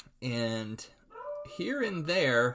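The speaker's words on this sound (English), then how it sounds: "I apologize if you hear my dog barking." A beagle bays and yelps close by, with drawn-out, wavering howl-like barks in several bursts, briefly overlapping a person speaking.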